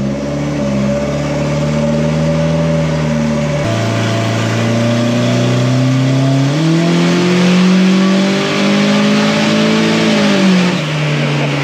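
A turbocharged Toyota Camry engine revs hard on a dyno, a loud, sustained mechanical roar whose pitch drops sharply and then climbs steadily through the pull, with no talk over it.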